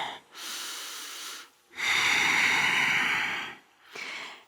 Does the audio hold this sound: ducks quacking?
no